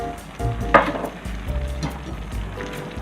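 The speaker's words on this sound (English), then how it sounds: "Now I'm going to add my cup of wine" A cup of wine poured into a pan of sizzling meat sauce: a sharp hiss bursts up as the liquid hits, then settles into steady sizzling with a few utensil knocks, close and without talk.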